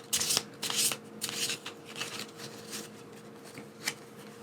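A deck of tarot cards is shuffled and drawn, with quick riffles and soft flicks of the cards close by, louder at first and then trailing into lighter taps.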